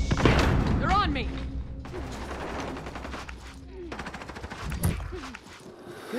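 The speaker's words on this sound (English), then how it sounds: "Taking fire here." Gunfire in a military shooter video game: rapid automatic bursts and sharp shots with mechanical clatter, mixed with game voices calling out.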